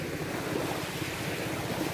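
Steady surf washes in at a white sand beach with fine sand and pebbles in Licoson, Mobo, Masbate. The sound is a continuous broadband rush with wind noise on the microphone, and no voices are heard.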